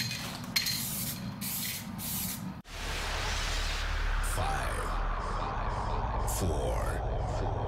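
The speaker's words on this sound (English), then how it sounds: "I will apply some epoxy primer now" Spray gun applying epoxy primer to a car body panel during rust hole repair, a steady broadband hiss that runs continuously through the clip, with clinks and brief bursts near the start and a short gap before the spraying resumes.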